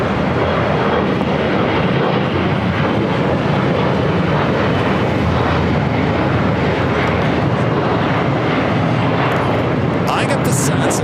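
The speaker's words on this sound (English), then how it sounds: "Cathay Pacific, the 777 at 300ER arriving there on the north side" A Cathay Pacific Boeing 777-300ER arriving from Hong Kong lands on the north side at LAX, its steady jet roar loud and broad throughout while a voice talks over it.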